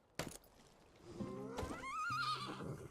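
A horse in the medieval survival game Medieval Dynasty gives a clear rising and falling whinny, with a soft thump just before it.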